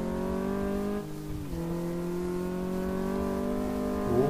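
A car being driven on a race track in Car Mechanic Simulator 2014: a loud, steady engine drone that rises in pitch under acceleration, dips at a gear change, then climbs again, with a brief surge at the end.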